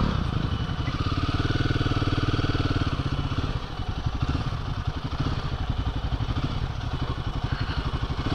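A Royal Enfield Himalayan 450 motorcycle idles close by with a steady, rumbling low throb and a faint mechanical clatter, running evenly throughout with no voices.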